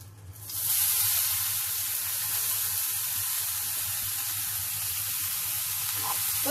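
Grated carrot is sautéed in ghee for carrot halwa, a broad hissing sizzle rising sharply within the first second and then holding steady and close, with no voices.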